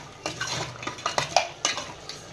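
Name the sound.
stirring ginger garlic paste into mutton curry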